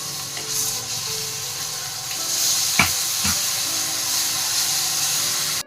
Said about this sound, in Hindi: इसके साथ ही हम इसमें पिसा हुआ प्याज और हरी मिर्ची ऐड करेंगे। इसे अब हम 2 मिनट तक अच्छे से भून लेंगे।